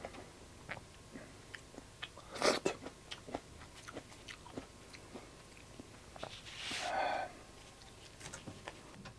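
Close, quiet bites into an orange slice from a fruit tart, one crisp crunch followed by soft, rhythmic chewing and a wetter squelch, with small clicks throughout and no talking.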